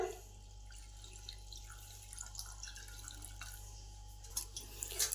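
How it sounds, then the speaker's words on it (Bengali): Water is poured into a pressure cooker of cauliflower stalks set to boil, a faint trickle and drip over a steady low hum, close and quiet, with no voices. "কিছুটা জল দিলাম।"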